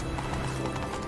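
Roach the horse in The Witcher 3 gallops and pulls up, a brief burst of rapid hoofbeats with a short whinny, loud and close over game ambience.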